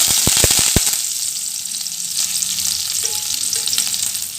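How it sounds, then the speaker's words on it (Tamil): Mustard seeds, dried red chillies and curry leaves crackle and sizzle in hot oil for a spicy chutney, sharp popping bursts at first settling into a loud continuous close sizzle. "இப்போ கடுகு நல்லா பொரிஞ்சிட்ருக்கு"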